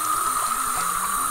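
Running tap water splashes steadily and close while hands are scrubbed with a bar of Dial soap, a continuous even rush with no pauses.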